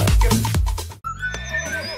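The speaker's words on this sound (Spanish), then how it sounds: "caballito miniatura que hace... Es de raza Falabella, la más pequeña del mundo" A miniature Falabella horse at a farm park gives a loud, close, shrill whinny that breaks into a higher, wavering second phrase, heard alone without talk.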